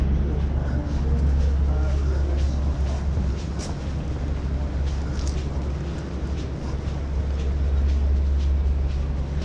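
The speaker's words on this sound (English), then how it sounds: "you can see the tram going over the road island there" A tram rumbles past close by, a steady low roar of wheels and motor over the constant background noise of a busy street.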